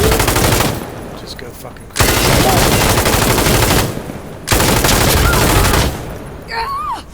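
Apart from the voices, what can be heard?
M249 SAW machine gun firing in video game Insurgency: Sandstorm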